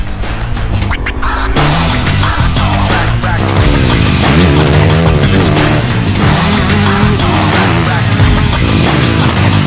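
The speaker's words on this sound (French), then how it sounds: "On fait quelques tours de reconnaissance avant de s'élancer à grande vitesse sur la piste." Go-karts race at high speed around a recreational park track, engines buzzing loudly and continuously with shifting pitch as they pass, plus occasional tyre squeal, with no talk over it.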